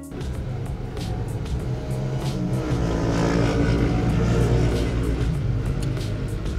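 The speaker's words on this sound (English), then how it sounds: "you heard a biker gang looking thing, but they were on four-wheelers" A group of four-wheeler ATVs roars past on a road, a broad, steady engine drone that swells to a peak and then slowly eases off.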